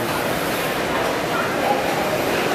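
A Tibetan Mastiff barks and yelps amid a loud, noisy background, the dog sounds blurred into steady crowd or wind-like noise at a dog show.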